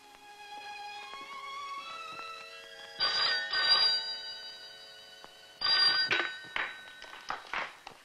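An old telephone bell rings in loud, bright bursts over a sustained background tone, two rings then a pause and more rapid ringing toward the end.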